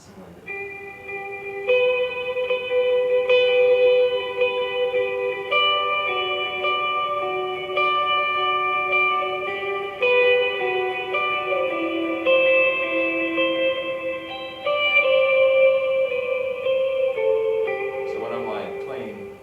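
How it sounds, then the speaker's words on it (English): Sustained electric guitar chords and notes ring out with overdrive and a wet reverb tail, played continuously at moderate volume without talk and ending in a bright swelling smear. "I'll give you a little bit of high stuff. And then get the drive down a little bit. Turn the mix up on the reverb."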